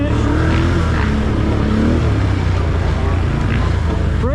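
A stock Can-Am Outlander 850 ATV roars at racing speed through a forest utility-class course, its engine droning loud and steady throughout with rising whine near the end.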